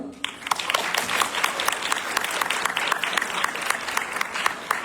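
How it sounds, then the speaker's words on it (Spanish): An audience at a medical conference applauds steadily, many hands clapping in a dense, sustained wash without any break. "Un aplauso, por favor."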